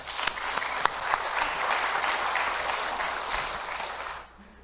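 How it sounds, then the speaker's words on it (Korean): A church audience at an anniversary revival service claps warmly to welcome the pastor, a dense, loud burst of applause that holds steady before tapering off at the end. "여러분 뜨겁게 박수로 영접해 주시기 바랍니다"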